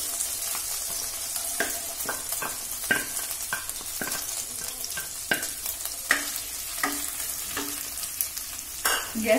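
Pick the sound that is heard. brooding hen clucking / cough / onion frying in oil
onion frying in oil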